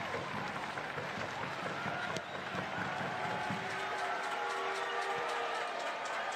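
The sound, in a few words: Tampa Bay Rowdies fans cheering in the stadium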